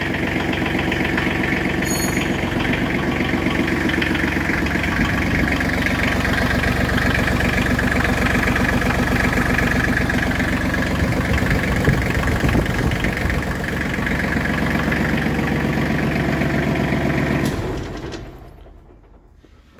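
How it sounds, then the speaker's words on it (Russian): An Iseki Sial Hunter 253 Japanese mini tractor's small diesel engine idles steadily with a rapid, even chugging for most of the clip, then shuts off and fades to silence near the end. "Мы немного поворачиваем ключ, ждем несколько секунд и только потом запускаем трактор."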